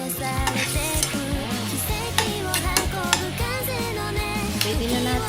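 Chicken breast sautéing in a pan, steady sizzle with repeated spatula stirs and clinks close up, no speech.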